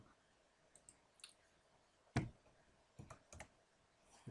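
Fingers tap a computer keyboard, a handful of sparse clicks with one louder keystroke in the middle and a short cluster near the end, close and quiet with no talk.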